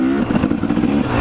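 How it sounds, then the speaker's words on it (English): A motorcycle engine revving and clattering as it starts, with the clutch pulled in while still in gear, loud and close throughout with an uneven throb and no talking. "You know you can pull in the clutch and start it."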